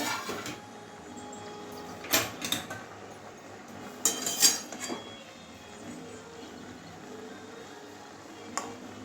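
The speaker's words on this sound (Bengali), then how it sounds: "এবারে ঢাকনাটা সরিয়ে দেখছি আমার ডাটাটা কতটা সিদ্ধ হয়েছে" A lid is lifted off a cooking pot of simmering vegetables, a few sharp metallic clinks and scrapes standing out over a quiet kitchen background, spaced apart with softer clatter between.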